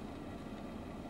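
A car engine idling as it warms up, a low steady rumble with faint vibration, quiet and unbroken, no talk.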